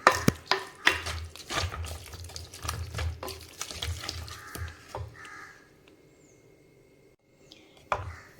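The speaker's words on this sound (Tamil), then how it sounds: "நான் மத்து வச்சு தான் கடையிறேன்." Cooked thudupu keerai (spinach) with salt is churned in a pot with a wooden mathu, giving rhythmic knocking and squelching strokes for about five seconds before it falls mostly quiet with a few faint taps.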